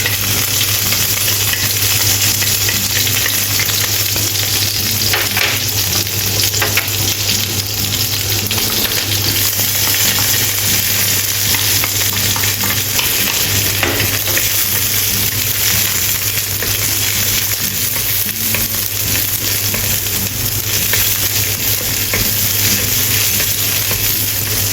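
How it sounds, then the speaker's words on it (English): Condiments stir-fried in a pan for a vegan salted fish dish give a loud, continuous sizzle and crackle with steady hissing throughout, no voices over it. "Stir fry condiments until fragrant."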